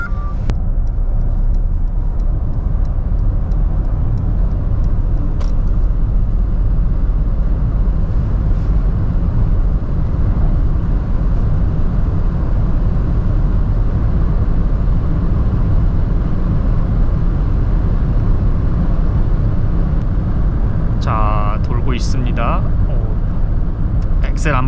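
A Mercedes-Benz EQC400 4MATIC electric car drives in sport mode with regenerative braking engaged, giving a steady loud road and cabin rumble with a faint whine throughout and brief higher chirps near the end.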